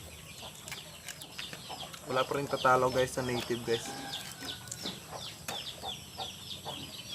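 Farmyard chickens cluck and call in short bursts close by, with a louder flurry in the middle, while someone talks over them throughout.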